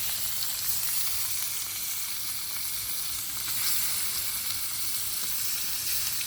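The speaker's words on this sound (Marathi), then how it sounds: "स्वतःचा मस्त त्याला फ्राय करणं चालली आपली मच्छी." Fish fry steadily in a pan with a dense, bright sizzle of hot oil, close and continuous for several seconds with no voices.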